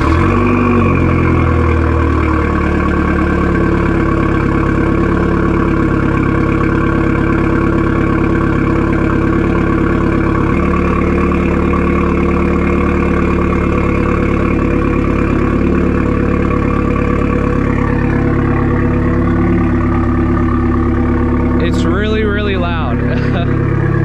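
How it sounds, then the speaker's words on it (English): A turbocharged Hyundai Genesis Coupe R-spec with full bolt-ons, its engine idling steadily after a cold start, a loud low drone that runs throughout and rises briefly near the end, with a person talking over it. "I'm gonna give you a cold start in the Genesis. This car is extremely loud."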